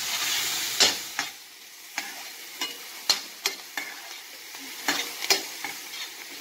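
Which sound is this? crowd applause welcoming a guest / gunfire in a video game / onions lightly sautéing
onions lightly sautéing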